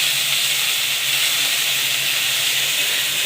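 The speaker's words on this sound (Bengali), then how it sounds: "পেঁয়াজটা ব্রাউন হয়ে গেলে একটু আদা রসুনের পেস্ট দিয়ে দিলাম 2 চামচ, দিয়ে ভালো করে কষছি।" Browned onion and two spoons of ginger-garlic paste sauté in a pan for a banana-stem ghonto, giving a loud, steady hiss that holds unbroken from start to finish with no voices.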